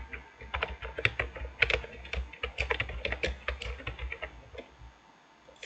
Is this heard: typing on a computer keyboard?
yes